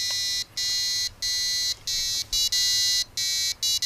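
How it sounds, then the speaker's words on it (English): A small electronic buzzer on a microcontroller expansion board plays the Darth Vader theme, a loud, shrill series of piercing tones with short gaps between them, marching in a steady rhythm. "it plays a sound on the buzzer"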